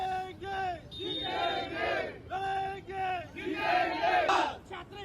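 Young people in the street celebrate a minister's resignation with a loud crowd chanting and shouting in rhythmic, repeated bursts of voices.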